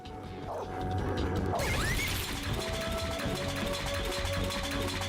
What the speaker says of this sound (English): Oh, I triggered the trap.